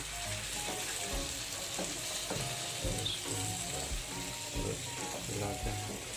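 Ripe red tomatoes fry in a pan for a dhaba-style sev tamatar curry, with a continuous moderate sizzle and soft scraping from repeated stirring, under faint speech.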